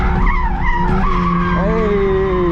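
A car skids uphill as the driver works the e-brake, with a loud, close engine and tires squealing and sliding in wavering tones. A voice is partly heard over the noise.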